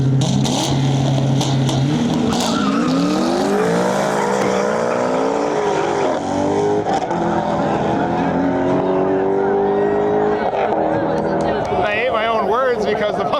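A Chevrolet Corvette C6 Z06 and a Ford Mustang drag race on a sketchy surface, engines roaring loud and revving up through gears continuously, with a commentator talking over the noise.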